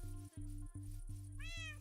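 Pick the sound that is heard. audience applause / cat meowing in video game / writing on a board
cat meowing in video game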